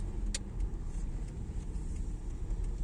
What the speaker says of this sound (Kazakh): Кішкене газ, чуть-чуть газ. Тоқтап қалмасын машина.